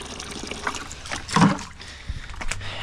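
Wet grout sponge squeezed over a water bucket while tiling, giving a short burst of trickling and dripping water with a brief louder splash in the middle, close and fairly quiet.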